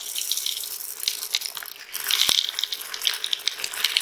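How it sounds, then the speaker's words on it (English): Water and seed-inoculant slurry sloshing and splashing inside a container during pea planting prep, a continuous close wet swishing with bright splashes and one sharp knock midway, no talking. "I'm going to mix a little more water just so I can slosh it around."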